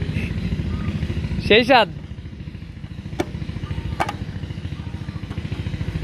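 A small machine engine chugs with a fast, steady putter, close and continuous, while a person speaks briefly over it and a few sharp clanks cut through.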